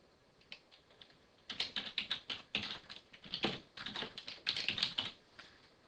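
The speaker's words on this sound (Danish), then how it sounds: "Så hun indtaster bare Bent og går ned i emnet og skriver" An email is typed on a computer keyboard in rapid bursts of close, crisp key taps, starting after a few isolated presses and running on with brief pauses, with no talk.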